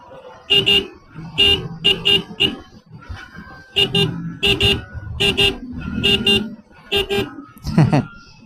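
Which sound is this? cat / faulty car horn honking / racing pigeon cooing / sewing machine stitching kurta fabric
faulty car horn honking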